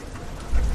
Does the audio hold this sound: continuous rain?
yes